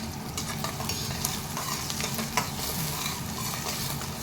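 Cumin seeds fry in a pan while being stirred, giving a steady close sizzle and crackle with scraping stir noises throughout, no talking.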